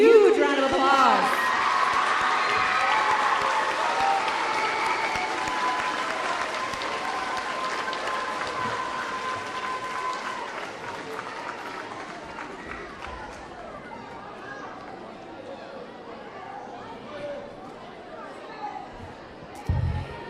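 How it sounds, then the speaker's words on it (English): Large audience at a junior high school academic awards program gives students a long, loud round of applause, a steady dense clapping that holds for about twenty seconds with faint crowd chatter underneath before tapering. "Please give these students a huge round of applause."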